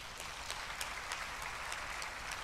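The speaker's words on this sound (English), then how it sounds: "Just give a big applause for Justice Lolit." An audience applauds a justice at a formal gathering with children present, a steady wash of clapping heard from a distance at low volume.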